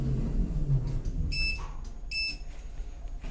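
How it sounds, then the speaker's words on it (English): Call button of a very fast Kleemann HRS lift at The Tower Hotel in Waterford beeping twice, two short clear electronic tones over a steady low machine hum. "I press the button quite hard to get the thing to register the beep."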